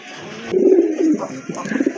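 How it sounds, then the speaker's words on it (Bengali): Pigeons coo up close in a few low, throaty rolling calls, with a sharp click at the start and faint background hiss. "আরেক জোড়া কবুতর দেখতে পাচ্ছেন"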